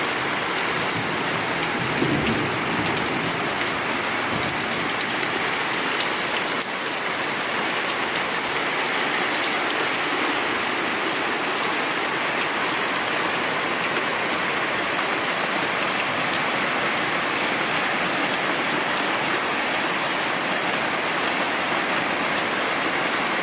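Heavy rain pours steadily onto a flooded street, a dense, unbroken hiss at constant loudness with no voices.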